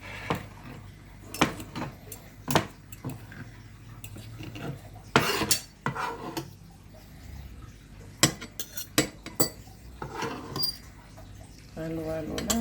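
A ladle clanks and scrapes irregularly against a pot while goto, a rice-less tripe porridge with beef head, is stirred. Sharp metallic knocks come at uneven intervals, and a person talks over the stirring.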